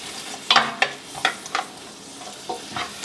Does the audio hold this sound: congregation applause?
no